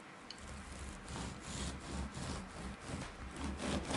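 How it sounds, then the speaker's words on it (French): A knife slicing bread into strips about 1 cm wide, a close rough rasping saw stroke repeated in a steady back-and-forth rhythm, fairly quiet and alone. "on va prendre son pain comme ça sur le champ et on va détailler des bandes"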